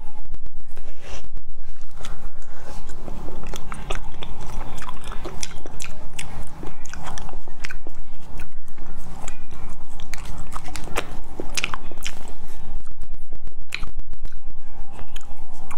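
Close, crisp bites and crunchy chewing of sweet cartoon-shaped cookies, with dense irregular crackles and mouth sounds running continuously throughout, loud and near with no talking.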